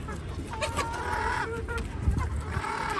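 Hens cluck in a home yard, a near, busy chorus of short clucks and calls running steadily for a few seconds.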